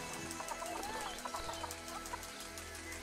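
Chickens cluck in the zoo-building video game Planet Zoo, soft scattered clucks and faint calls sitting low under a steady bed of ambient game noise, with no talking.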